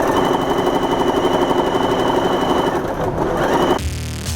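A quilting machine on a Grace Qzone hoop quilt frame stitches a pantograph pattern with a steady, fast, loud mechanical whir, then cuts off abruptly near the end.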